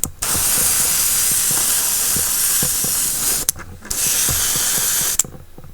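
Airbrush spraying Testors Dullcote lacquer onto a miniature: a close, steady hiss in two long bursts separated by a brief pause, with small mechanical clicks underneath.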